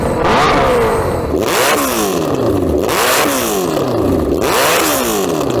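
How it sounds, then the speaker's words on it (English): A tuned Suzuki Hayabusa motorcycle revs hard at close range, three loud sweeping rises in engine pitch each followed by a falling decay, set at a drag race event. "let's have a listen to your bike"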